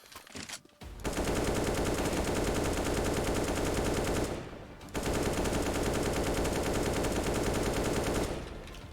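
Rapid automatic gunfire from various weapons in the Aimbotz aim-training map for CS:GO, loud and continuous in two long bursts separated by a brief pause, with no talk.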